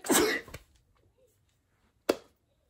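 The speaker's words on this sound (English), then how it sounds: "I'm about to sneeze" A single loud sneeze bursts out close to the microphone indoors, followed after a short quiet gap by a brief, sharp second sound.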